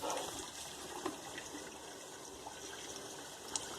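Water gushes steadily from a hose while RV holding tanks are dumped, a continuous close hiss and splash with a few small knocks, no talking.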